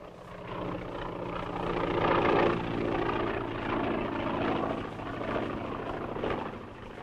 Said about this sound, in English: That must be the plane.